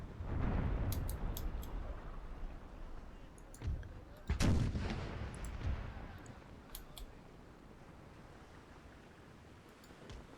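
Ship cannons fire a broadside volley in the naval battles of Empire: Total War: a heavy boom opens, more booms come near four and a half seconds, then the rumble fades with scattered bright cracks and faint talk.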